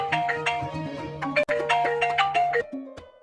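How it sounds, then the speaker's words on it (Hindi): A mobile phone ringtone plays a bright melodic tune loud and close, continuing for several seconds with a brief break midway, a call coming in from the owner's uncle; no talking. "ये तो मामा का फोन है।"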